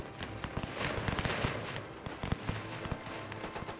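Rifle fire in the WW1 video game Between Empires, a dense crackle of overlapping shots from many infantry, irregular and continuous, some reports louder and closer among a distant rattling volley.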